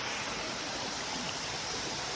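Steady, dense rush of water at Bito Falls, the water source supplying Santa Rita in Samar, a broad roaring wash that stays constant and close.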